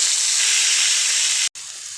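Onion paste sizzles hard in hot oil, a bright, loud, steady hiss that cuts out abruptly for a split second near the end before resuming.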